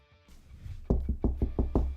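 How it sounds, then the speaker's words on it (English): Six firm knocks on wood in a steady, evenly spaced rhythm, loud and close, following a brief quiet moment. "Knocking on wood"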